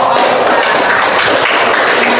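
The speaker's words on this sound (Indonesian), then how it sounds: "tepuk tangan untuk" Clapping in a classroom lesson, a steady, dense patter of many hands, loud and continuous throughout.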